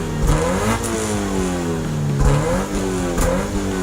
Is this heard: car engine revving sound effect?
yes